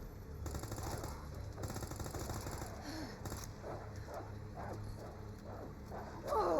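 Zombie dogs attack in Resident Evil 2 (2019), with rapid snarling and barking bursts amid gunfire-like game effects, loud and busy throughout a tense combat scene.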